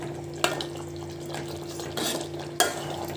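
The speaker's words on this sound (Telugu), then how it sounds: "ఈ పొడి దీంట్లో వేసేసేయాలి. కొంచెం ఇట్లా కలిపేసుకోవాలి." A spoon stirs spice powder into egg curry in a metal pan over low sizzling, with a few sharp clinks against the pan rim.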